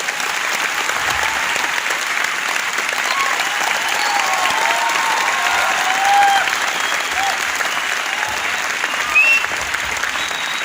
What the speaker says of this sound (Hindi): तो एक बार खुद के लिए जोरदार ताली हो जाए।